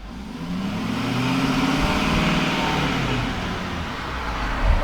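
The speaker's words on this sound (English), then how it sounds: "you can definitely hear the turbo spool up with the GDP" Truck engine fitted with a Diamond Eye Performance exhaust, a steady mid-pitched drone that swells slightly as it builds, with a faint turbo-like rise underneath, continuous and fairly loud.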